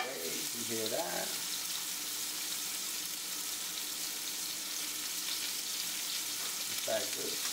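Pork loin searing in a hot pan, a constant bright sizzle and frying hiss throughout, with brief voices breaking in near the start and end.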